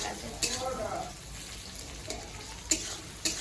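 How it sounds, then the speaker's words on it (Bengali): Tomato and onion frying in a pan for a kalia-style fish curry, a close, soft sizzle with a few brief sharp scrapes or clinks of a utensil at irregular moments, no speech over it. "টমেটো এবং পেঁয়াজটাকে ভালো করে লাল লাল করে ভেজে নেবো"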